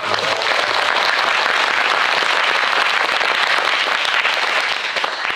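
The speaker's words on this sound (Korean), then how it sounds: "큰 박수 부탁드립니다" Steady, dense applause from an audience at a film Q&A screening event, filling the room at an even loudness from start to finish with no talk over it.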